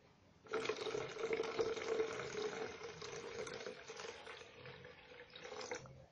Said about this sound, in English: the water is filling